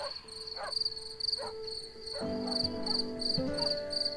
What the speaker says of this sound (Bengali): ঝিঁঝি পোকার অবিরাম সুর